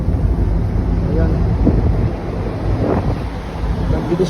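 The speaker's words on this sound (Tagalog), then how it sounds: "Mahangin, malakas yung yung alon." Strong winter wind off the Norwegian coast roars in a steady, heavy rumble across the microphone, with surging waves washing beneath it, a constant blustery wash with brief swells.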